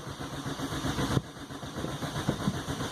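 An MK2 GTI engine converted to motorcycle carburetors idles in a steady, even rumble, with one brief bump partway through and no voices.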